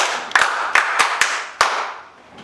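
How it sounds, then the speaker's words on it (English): A classroom claps for a student in a brief burst, six or so separate, sharp claps spread unevenly across two seconds and fading out, fairly close with no voices. "Please clap for her."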